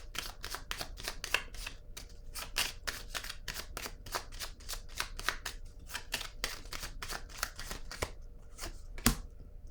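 Tarot cards are shuffled in a quick, steady run of crisp riffles and slaps, close and fairly loud, going on without pause and ending in one sharper snap.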